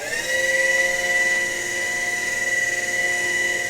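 A woodshop sanding machine with a conveyor belt that feeds wooden signs through runs with a steady, high tonal whine and an underlying motor hum, continuous and fairly loud.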